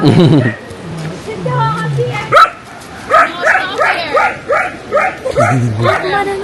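A small dog barks in short yips and whimpers in a rapid run of high cries, close and loud, following a stretch of human speech.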